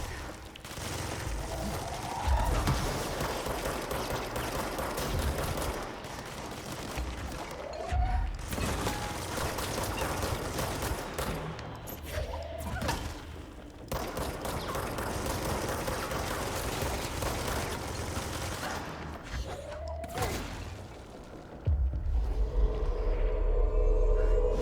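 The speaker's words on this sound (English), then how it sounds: "It's almost a relief to be shot at by regular guns." Gunfire from ordinary firearms in the action video game Control, made up of repeated bursts of shots and thuds mixed with mechanical clatter over a continuous game soundscape of moderate loudness.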